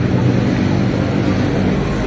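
Strong wind buffeting a microphone, a dense, continuous roar with no breaks.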